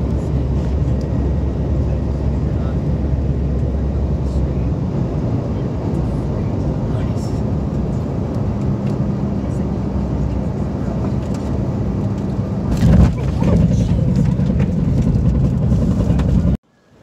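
Gyrocopter descending for a landing near Portland, Maine, with a loud, steady engine and rotor drone throughout, a louder burst near the end before it cuts off, and a voice speaking over it.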